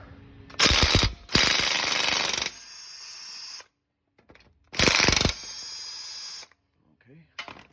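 A socket ratchet wrench works a fastener to remove a plate, giving loud bursts of rapid clicking broken by pauses, with quieter mechanical handling between them.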